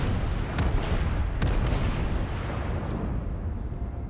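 Battleship guns fire in World of Warships, giving a loud, rumbling, heavy salvo with two sharp blasts and a long booming decay.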